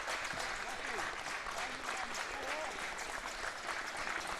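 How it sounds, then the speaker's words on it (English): Crowd clapping in the grandstand at an NPLSA finals football match between Adelaide Comets and Adelaide United, steady and fairly distant, running under a commentator's voice throughout. "There's a clapping as well."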